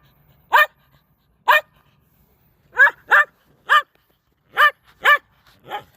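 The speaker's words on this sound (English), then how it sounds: "My dog's talking to me." A dog barks in eight separate short, sharp barks spaced irregularly, close and loud against near silence, the final one softer and more drawn out.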